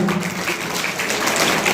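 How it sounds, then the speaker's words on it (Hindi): Loud, dense applause from a crowd at a school annual function, steady clapping filling the space with no pauses throughout. "तो इनके लिए जोरदार तालियां"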